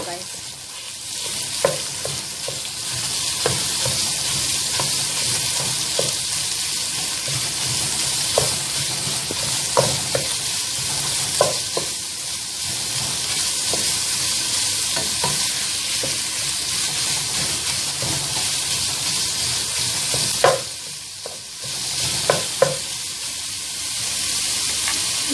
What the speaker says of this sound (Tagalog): Igisa lang natin po, guys.